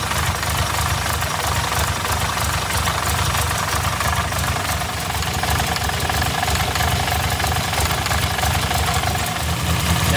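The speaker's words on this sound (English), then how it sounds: "I'm letting the car run so that I can warm it up and check for leaks." A 1962 Austin Healey Sprite Mark II engine idles while warming up, a steady, close, loud rumble with an even, rapid pulse and no talking.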